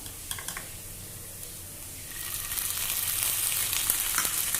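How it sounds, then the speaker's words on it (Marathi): Chopped onions sizzle in a pan as half a spoon of ginger-garlic paste goes in, the frying steady and soft at first, then louder and hissier after a couple of seconds. Sprouted moong dry sabzi is being cooked. "आता आपण त्याच्यामध्ये आलं लसणाची पेस्ट घालूया अर्धा चमचा"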